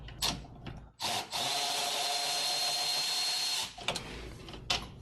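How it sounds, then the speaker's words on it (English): A power tool, likely a drill, whirs steadily for about two and a half seconds while work is done on a 2002 Porsche 911 Cabriolet's air conditioning, with short bursts and clicks before and after, close and fairly quiet. "Power tools for the win."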